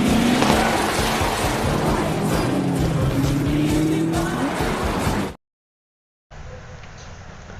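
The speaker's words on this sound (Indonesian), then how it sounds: "Johnny dan Bog meninggalkan ponsel mereka, mengendarai Aston Martin tuanya ke sumber serangan di Prancis" Engine and tyres of an old Aston Martin driving toward France, a loud continuous motor drone with passing rush and a brief squeal, cutting off to silence before resuming more faintly.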